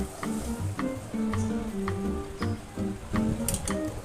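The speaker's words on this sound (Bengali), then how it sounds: "আর সামান্য লাল লঙ্কার গুঁড়ো দিয়ে ঘন ঘন নাড়তে থাকতে হবে।" Pumpkin leaves frying with cumin paste, ginger paste and turmeric over high flame, a constant sizzle broken by rhythmic scraping strokes of a spatula, close and continuous with no voices.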